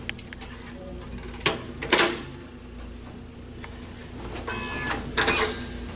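A DNP RX1 photo printer being shut, with a few sharp plastic clicks and clunks of its cover and mechanism, close by over a faint steady hum.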